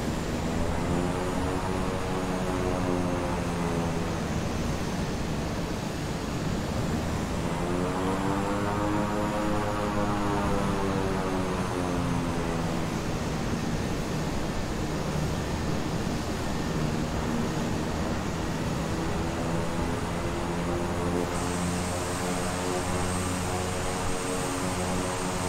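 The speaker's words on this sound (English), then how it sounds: "Sorry for the plane having to roll along the ground like this," A twin-engine King Air 350i in Microsoft Flight Simulator rolls along a dirt strip, its propeller drone loud and continuous, the engine pitch rising and falling in slow sweeps as it struggles to pick up speed.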